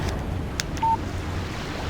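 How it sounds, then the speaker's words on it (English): A short single electronic alert tone marks an incoming text message on a phone in the video game Alan Wake, sounding briefly and clearly over a low background hiss of wind and surf. "Text message from Barry"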